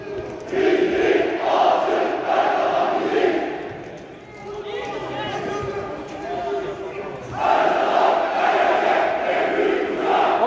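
Football supporters in a stadium crowd at a Turkish cup match chant rhythmically in loud, dense bursts that swell, dip briefly in the middle and surge again near the end.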